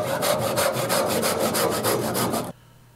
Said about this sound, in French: Mais je vais terminer avec une scie.